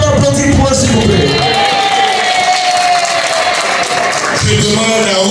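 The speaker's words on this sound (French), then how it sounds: "Est-ce qu'on peut applaudir pour eux, s'il vous plaît?" A festival crowd applauds and cheers a third-place runner-up at a diversity festival in Birmingham, loud sustained clapping mixed with whoops and shouts, with a voice and music tones rising over the noise.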